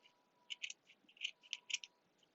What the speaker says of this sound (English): I'll probably cut him off about